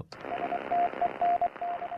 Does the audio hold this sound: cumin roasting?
no